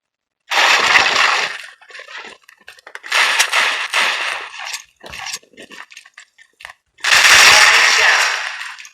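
Gunfire in the online shooter Strike Team Online: three loud, close bursts of rapid automatic fire, separated by short gaps with scattered quieter shots and clatter, with no talking.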